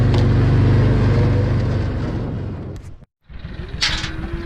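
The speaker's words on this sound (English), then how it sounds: "Dad's riding my boy on his UTV up there" UTV engine running out in a cattle pasture, a loud close motor drone that fades away, cuts to silence, then returns as a fainter engine hum.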